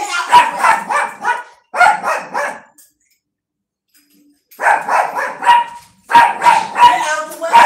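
A puppy barks in rapid bursts of yips and woofs, loud and close, in two clusters separated by a pause, with a person shouting over the barking.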